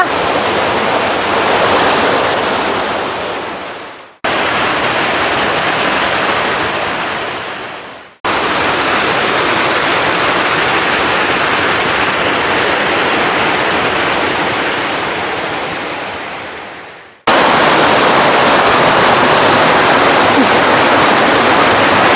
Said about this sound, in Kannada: ಬ್ಯೂಟಿಫುಲ್ ಆದ ನೀರಿನ ಹರಿವು